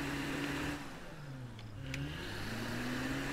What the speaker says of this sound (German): das Auto hört sich richtig scheiße an.